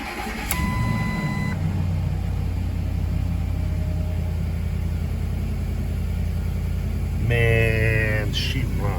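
A 2005 Ford F-150 with the 5.4 Triton V8 cranks briefly and fires into a cold-start idle, a loud steady low rumble running throughout, with a short whine and brief voice near the end.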